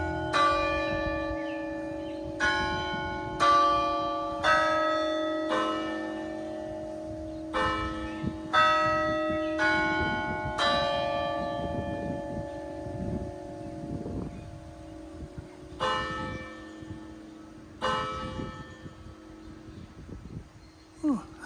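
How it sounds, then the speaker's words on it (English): Church bells ring the 2 o'clock hour in a series of clear, resonant strikes spaced a few seconds apart, each note lingering and decaying over a low steady hum. "Oh, listen to the bells."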